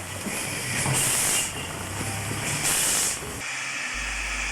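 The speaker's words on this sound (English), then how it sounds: "On reaching Cara, 3324 shunts the yard along with 5595, a southern valve gear standard goods." A steam locomotive, 3324, shunting the yard at Cara alongside 5595, a standard goods engine, with loud bursts of hissing steam rising and falling over a rumbling background, twice swelling before a quieter tail.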